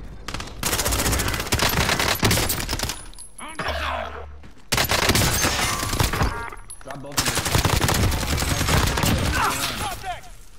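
Rapid gunfire bursts in the Warzone Rebirth Island video game, dense and loud, broken by short gaps, with game voice callouts and player talk mixed in.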